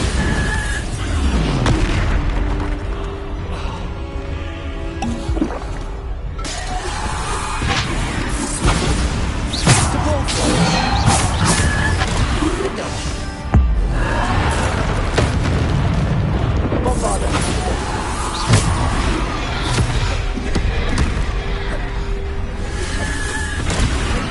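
Repeated Bombarda spell explosions in the video game Hogwarts Legacy, heavy booms and crashing blasts going off one after another over loud, constant battle noise.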